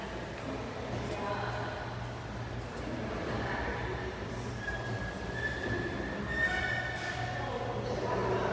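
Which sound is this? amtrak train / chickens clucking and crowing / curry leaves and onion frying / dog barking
amtrak train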